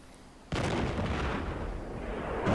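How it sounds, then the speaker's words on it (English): Cannon fire in the Jade Empire video game: a sudden loud boom followed by a sustained rumbling roar that barely fades, heavy and close. "Cannon fire."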